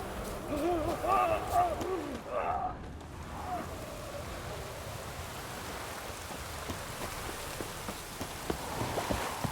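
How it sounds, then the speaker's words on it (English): Steady rain in The Witcher 3: Wild Hunt patters continuously, with some tonal game sounds and a brief voice early on over the wash of falling drops. "Looks like rain."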